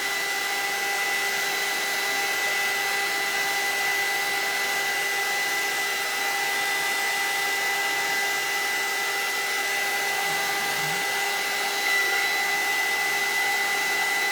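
A hair dryer blows steadily on a gourd craft to partly dry it, producing a loud, constant whirring drone with an even motor hum from start to finish and no voices.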